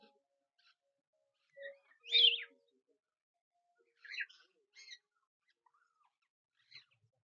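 Birds in a bird park aviary in Kandy give a few short, separate chirps and calls at moderate distance, spaced out by quiet gaps.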